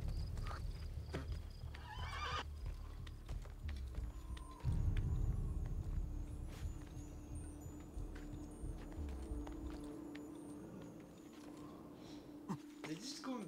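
Horse whinnies and clip-clopping hooves in Assassin's Creed 2 over a continuous game soundtrack, with a steady rumble and sharper hoof thuds around the middle; the galloping stays fairly close.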